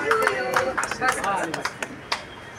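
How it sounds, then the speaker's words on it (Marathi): Scattered clapping from a crowd at a birthday celebration for a local MNS party division president, overlapping with steady talk and cheering voices, with a few sharp claps standing out near the end. "सर्वांनी जोरदार टाळ्या वाजवून त्यांना पुढील आयुष्यासाठी"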